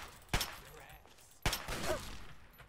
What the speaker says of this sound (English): That's a hunting rifle.